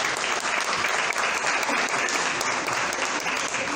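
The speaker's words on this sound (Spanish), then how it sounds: "denle un aplauso a Cristo." A church congregation applauds for Christ during a Spanish-language sermon, with steady, dense clapping filling the room throughout and a few faint voices underneath.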